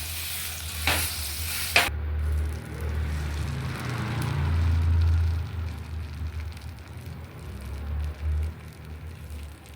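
Masala dosa cooking on a hot pan, a steady close sizzle and frying hiss running throughout with a couple of sharp scraping clicks near the start and soft stirring movement, no voices.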